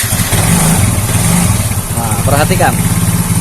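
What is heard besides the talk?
Yamaha Mio J motorcycle engine idling and faltering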